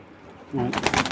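High flyer pigeons at a pigeon sale give a brief soft coo, quickly joined by a person talking over it, all within about a second.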